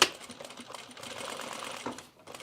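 A sewing machine runs in a steady rapid chatter as it stitches down the edges of a replacement zipper on jeans, close and continuous with a brief pause near the end.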